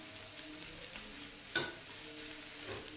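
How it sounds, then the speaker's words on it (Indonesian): Jimbaran-style grilled shrimp cooking over a grill, giving a steady close sizzle with one sharper crackling burst partway through and no voices. "Kalau memanggang udang kita nggak perlu waktu lama ya guys, karena udang ini cepat matang."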